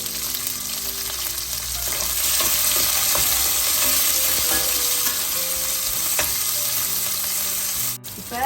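Onion, curry leaves and green chillies fry in oil close by, a constant crackling sizzle broken by clinks and scrapes of stirring, then a short pause near the end.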